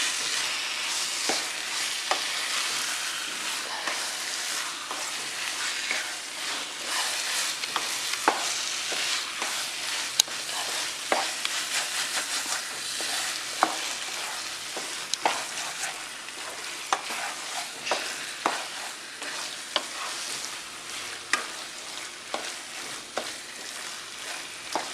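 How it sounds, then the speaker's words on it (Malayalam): Tomato masala sautéing in a pan for Malabar fish biryani, a steady close sizzle with frequent sharp clicks of a spoon stirring against the pan, continuous throughout with no voices. "നന്നായിട്ട് വഴറ്റി കൊടുക്കുക. തക്കാളി നന്നായിട്ട് വെന്തുടഞ്ഞ് വരണം."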